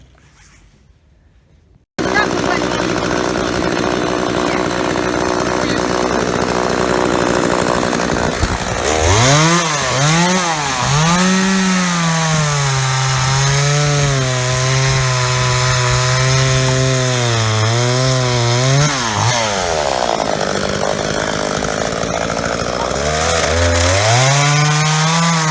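A repaired chainsaw runs loud and close, its engine note climbing and falling as the throttle is revved, then settling near idle before revving again.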